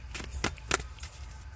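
Tarot cards being shuffled by hand on a blanket-covered surface, giving a few soft riffling bursts against a low steady background hum, with no talking.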